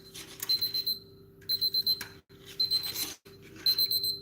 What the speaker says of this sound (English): Oh, it's also from the timer.